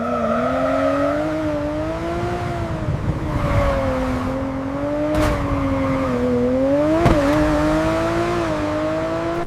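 A car drives in an AI-generated scene, its engine holding a continuous, fairly loud hum whose pitch gently rises and dips, with a couple of brief sharp ticks and no voices.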